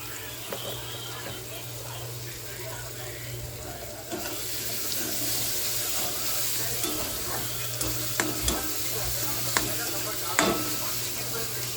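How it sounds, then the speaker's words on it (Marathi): Onion frying in a pan for dal fry makes a steady hiss of sizzling oil with intermittent clicks and pops. It is moderately quiet and close, and no one is speaking. "आता आपण थोडासा कांदा भाजून घेऊया"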